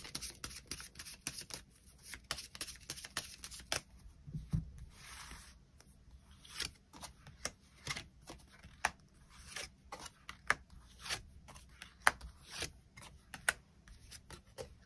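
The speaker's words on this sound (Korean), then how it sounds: "추가 카드로 일별로 월요일부터 일요일까지 어떤 하루를 보내게 될지 추가 카드 뽑아보도록 하겠습니다" Tarot cards shuffled and drawn by hand, a quiet run of soft, irregular flicks, slides and taps close by, with no talking.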